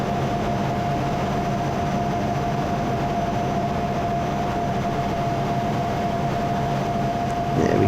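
Fighter jet cockpit during a barrel roll: a steady, loud roar of engine and airflow with a constant whine throughout and a slight swell in level at the very end.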